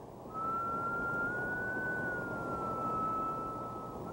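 A single continuous whistle-like tone that rises gently and then falls, like the whistle of a passing train, held alone at a steady level over a faint hiss.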